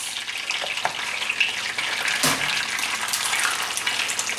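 Double-yolk eggs cracked into a hot pan sizzle and crackle steadily, a close, bright hiss with a brief sharper splatter midway and no talking.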